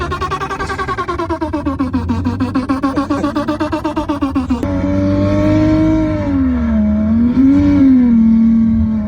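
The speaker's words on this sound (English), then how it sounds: "make your car sound like anything you want" Simulated car engine revving plays through a car's speakers from an OBD-port sound app: first a loud, rapid pulsing rev, then a smoother sustained engine tone that rises and falls, close and alone.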